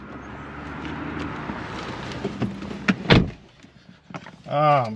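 Someone gets into a 2015 BMW M3, with rustling and movement, then a solid car door thud near the three-second mark, followed by a voice speaking.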